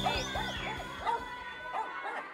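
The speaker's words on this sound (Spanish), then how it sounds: "Hoy están los perros." Several dogs bark and yip in quick, repeated bursts at close range, with whimpering mixed in, fairly quiet overall and without talk.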